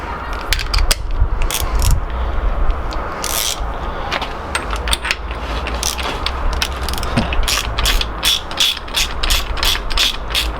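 A ratchet clicks rapidly as it turns a large 32mm socket on a bottom bracket tool while a bottom bracket is replaced on an old Pashley bicycle, in bursts of close, sharp ratcheting with short pauses, and no talking.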